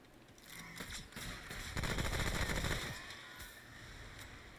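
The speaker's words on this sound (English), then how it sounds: "That guy's gun really sounded futuristic" Futuristic gunfire in the game Remnant: From The Ashes, a dense burst of rapid shots that swells through the middle and fades out again, heard alone without talk.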